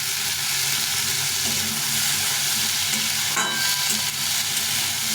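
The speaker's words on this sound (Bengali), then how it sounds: "সুন্দরভাবে ভেজে নিতে হবে টমেটো আর আলুটাকে" Tomato and potato pieces fry in a hot pan, a loud continuous sizzle with scraping stirring strokes running throughout and a brief burst of sharper crackling near the middle.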